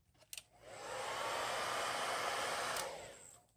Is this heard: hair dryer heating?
yes